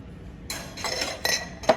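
Glass jars on sale in a discount store clink as they are handled, with several separate bright knocks and one sharper clink near the end, close and fairly quiet.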